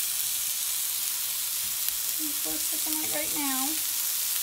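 Cauliflower stuffing sautéing in a pan gives a loud, constant close sizzle and hiss, with a brief spoken phrase partway through.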